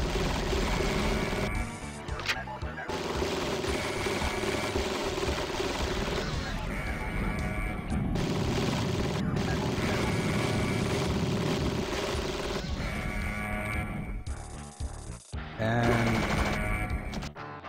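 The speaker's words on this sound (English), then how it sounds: "Alright, I got sniped by those guys" Enemies in System Shock fire on the player, loud bursts of rapid gunfire repeating over several seconds with brief pauses between volleys, under dense game noise.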